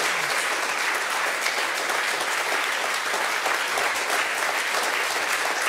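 A studio audience in a Swiss television talk show applauds with sustained, dense clapping at a fairly even loud level, nearby and continuous throughout.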